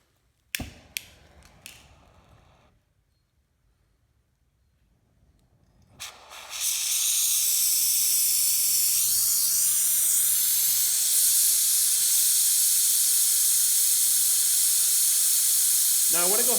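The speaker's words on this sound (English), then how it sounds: "going to start this up, and we're going to go ahead and heat up that bolt" A gas torch heats a broken exhaust manifold bolt on an LS cylinder head. A few sharp clicks and a quiet pause come first, then the flame lights into a loud, steady roaring hiss that continues unbroken to the end.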